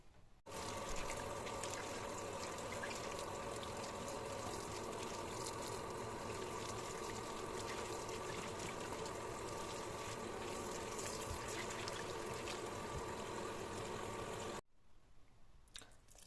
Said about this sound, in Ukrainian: Зараз треба буде ретельно помити у воді, щоб забрати усе лишнє, усе сміття